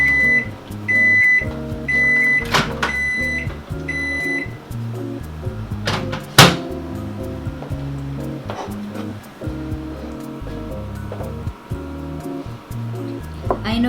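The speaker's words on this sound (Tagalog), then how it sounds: "I think what I'm going to do is just microwave this one." A microwave oven heats a dessert, its steady low hum running throughout, with several short repeated beeps early on, a sharp clunk midway and faint background music.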